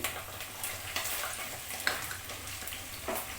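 Mixed vegetables for beguni shallow frying together in oil, a steady soft sizzle and crackle with occasional faint stirring knocks, close and continuous with no talk.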